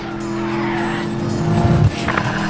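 Cars racing through Dubai in the driving game Need for Speed, engines humming loudly close by and building into a sharp tire squeal and skid near the end, with no talking over it.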